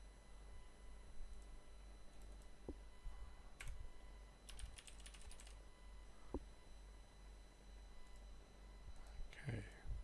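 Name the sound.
typing on a computer keyboard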